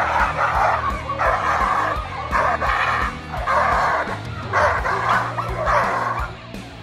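A Dogo Argentino, held back by a straining handler, barks in a rapid series of deep, loud, close barks in a regular rhythm, with some whining between them.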